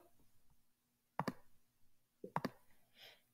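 Two quiet mouse clicks selecting a view option in Google Slides, each a sharp double tick, spaced about a second apart in a near-silent room.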